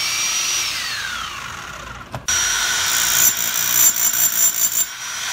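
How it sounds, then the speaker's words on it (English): A chisel hammering through a concrete floor to reach a channel drain, heard as a rapid, close, loud rattling impact after a falling whine, with a sharp crack midway and ringing metallic chatter continuing to the end. "he's going to go ahead and pound on it here"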